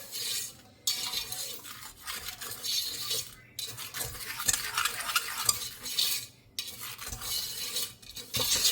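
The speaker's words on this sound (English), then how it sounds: "I always take a whisk and I mix it together really well." Dry ingredients for homemade banana pudding are whisked together in a bowl, giving a steady run of close, scratchy stirring and tapping against the bowl, broken by a few short pauses.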